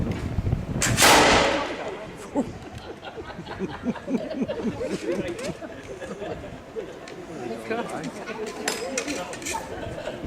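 A single sharp flintlock musket shot near the start, loud and close, followed by a crowd chattering and laughing in the background at an outdoor demonstration.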